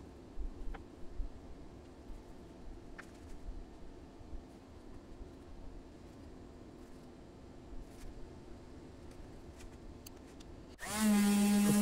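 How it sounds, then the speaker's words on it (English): Power sanding of a guitar end graft: a long, quiet workshop stretch with a few small clicks, then the sander starts abruptly near the end with a loud, steady buzzing whine. "Of course, there was more sanding."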